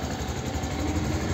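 Hero Xpulse 200 Fi motorcycle engine idling after a morning cold start, a steady low rumbling putter held close and loud throughout, with no throttle blips or voices.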